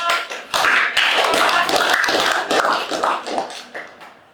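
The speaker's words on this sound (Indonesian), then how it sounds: "tepuk tangan untuk kelompok" A school class claps for a group after its presentation on air pollution, a burst of many overlapping hand claps that swells quickly, holds steady and then thins out and fades toward the end.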